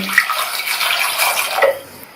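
Water poured from a vessel into a pressure cooker holding 300 grams of washed baby potatoes, a steady close splashing pour that tapers off near the end, with no talk.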